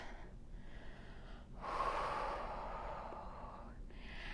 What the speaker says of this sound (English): Taking a couple breaths to get settled.